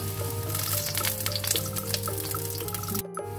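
Garlic fries in butter in a pan beside beef tenderloin, giving a steady close sizzle with crackles and pops throughout, then a short break near the end.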